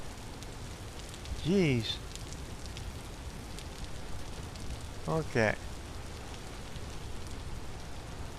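Heavy rain pours steadily in the game Vintage Story, a dense broadband hiss running the whole way through, while someone speaks briefly twice over it.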